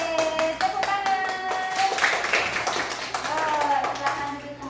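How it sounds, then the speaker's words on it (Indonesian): A classroom of students claps hands on the teacher's cue, bursts of rhythmic clapping mixed with children's voices and chatter, fairly close and moderately loud. "Oke, tepuk tangan."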